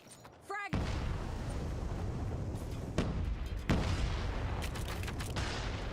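A single loud blast from a frag grenade in Call of Duty Mobile on the Streets map, a sharp onset followed by sustained rumbling gunfire and further bangs.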